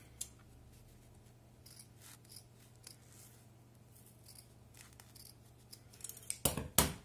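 Scissors snip ribbon ends at an angle while a bow is finished for a handmade milk-carton box, giving faint, sparse cuts over a quiet room that end in a couple of louder snips and rustles.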